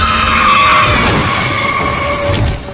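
Tires squeal in a loud, sustained skid in a film scene where a car strikes a man chasing after his son, the screech running nearly unbroken for a few seconds with a brief crunching impact partway through and no voices.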